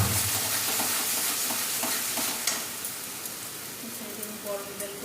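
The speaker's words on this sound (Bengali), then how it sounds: "তারপরে তো মশলাটা কষিয়ে দেবো" A spice paste sautéing in a pan gives a close, crackling sizzle with intermittent stirring scrapes that grows quieter toward the end, with no voices.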